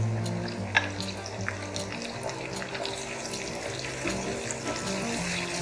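Translucent onions cook with ginger-garlic paste for a lobia masala of black-eyed beans. A soft, steady sizzle and hiss runs close by, marked by a light clink near the start and scattered small pops, with no talking.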